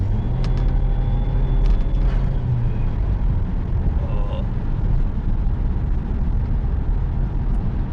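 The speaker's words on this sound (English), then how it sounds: "You can kind of hear the turbo in the car." Old Saab turbo engine running, heard from inside the car: a steady loud low cabin rumble throughout, with a faint turbo whistle near the start.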